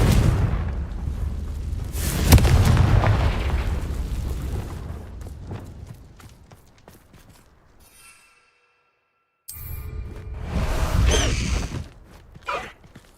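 Fiery Confringo and Incendio spell blasts from Hogwarts Legacy, loud booming bursts with crackling roar that swell and fade, a brief silent gap, then another rumbling volley of explosions.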